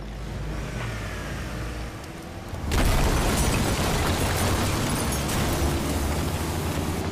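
A plutonium truck driven off in a movie scene: low engine rumble, then a sudden loud burst of roaring noise and revving that stays heavy and sustained to the end.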